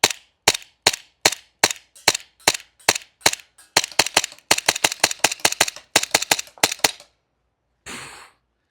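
Tyrant 2011 gas airsoft pistol running on propane fires a full magazine of BBs in a steady string of sharp, loud cracking shots, close up, then a final short hiss of gas; no talking.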